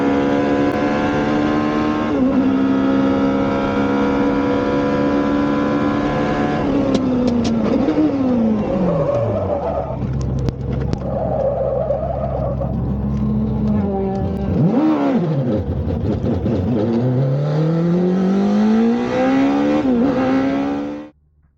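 A race car at speed on a track, its engine screaming at high revs, dropping and surging through a high-speed spin before climbing again, loud and close with talk over it.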